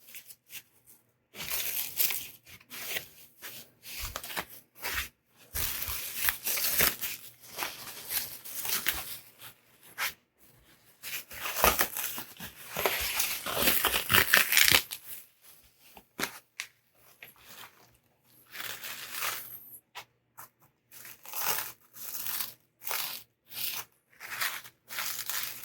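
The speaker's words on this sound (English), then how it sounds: "Sometimes this plastic is easier to get started and unwrap" Plastic packaging is peeled and torn off a new rifle, with irregular bursts of crinkling, crackling and tearing close by, separated by short quiet gaps and a longer pause near the end.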